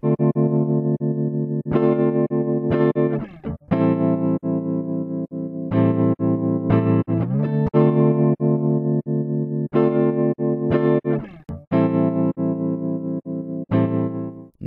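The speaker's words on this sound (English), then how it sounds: "It's hard to explain what the rhythm control does, so it's probably just best you listen for yourself and try it out." Electric guitar chords run through an Empress Effects tremolo plugin with its rhythm control engaged, the volume pulsing in a steady, uneven chopping pattern across repeated strummed chords, loud and up front with no talking.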